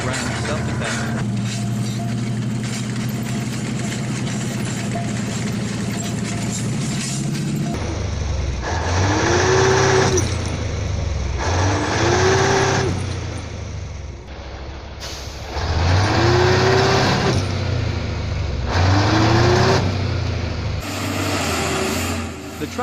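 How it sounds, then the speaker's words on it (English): A Type 92 mine field processing roller of the Ground Self-Defense Force drives past, its heavy engine rumbling steadily, with rising whines and air-brake-like hisses repeating every few seconds. "This is Type 92 Mine Field Processing Roller Driving Scene Ground Self-Defense."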